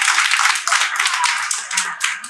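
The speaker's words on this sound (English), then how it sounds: "Let's give her the clap, let's give her the clap." Audience clapping at a small live variety show, a quick, close burst of hand claps forming a bright, continuous patter with slight swells.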